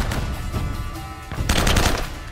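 Automatic gunfire in Uncharted: Drake's Fortune, steady loud rattling bursts that swell sharply near the end, with no talking.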